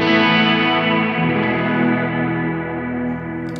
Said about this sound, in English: Any guitar ones? Oh, here we go, ambient shimmer.